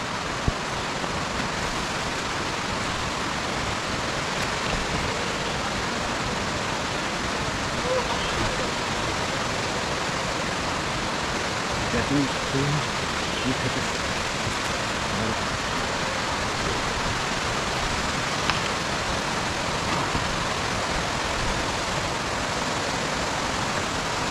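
The Dhup Pani waterfall near Kaptai, Rangamati pours down in a constant, dense roar of rushing water. It is loud and unbroken throughout, like a steady wash of noise close by.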